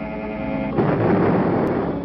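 A single loud gunshot bursts out after a brief low rumble, its deep boom trailing off into a rumbling decay.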